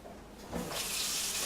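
Tap water runs into a sink for home brewing an ESB, starting as a faint trickle and swelling into a steady, close, full rush that continues to the end.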